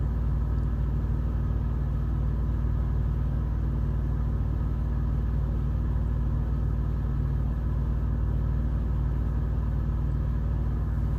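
A truck's diesel engine idles and rumbles steadily at low speed while it slowly backs a trailer in, a loud continuous drone heard close from inside the cab, no voices.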